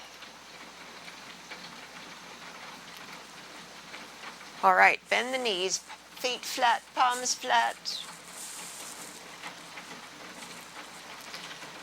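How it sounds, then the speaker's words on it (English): Rain pummels a roof in a steady, hissing wash throughout, heard beneath a woman guiding a yoga class, her voice prominent in the middle. "the roof is being pummeled with rain"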